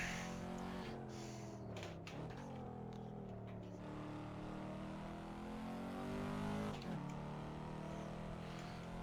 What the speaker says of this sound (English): Just because the supercharger whine is awesome.